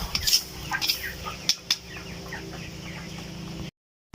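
Several 25-day-old chickens cluck and squawk close by in short bursts, with a brief flutter of wings over a steady background hum before it cuts to silence.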